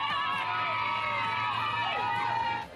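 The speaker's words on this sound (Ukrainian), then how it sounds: "І гучні, такі, щоб він через броньоване скло автівки почув крики «Ми тебе любимо!»" A crowd in Florida shouting and cheering for Trump's motorcade: loud, dense massed voices with whoops and shrill rising yells throughout, dropping off briefly at the very end.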